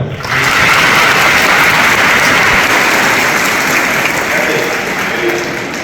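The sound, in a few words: audience clapping for Adarsh Rana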